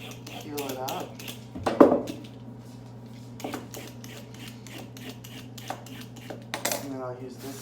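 A handheld peeler scrapes along a carrot in a kitchen with a few quick strokes and clicks, one louder scrape standing out, while a person talks over a steady low hum.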